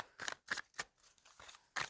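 A deck of tarot cards is shuffled by hand, producing four or five short, crisp riffling bursts in quick succession, close and quiet.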